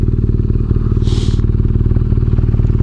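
A BMW R nineT Scrambler motorcycle engine rumbles steadily and loudly from close by, a continuous throbbing drone with a brief whoosh partway through.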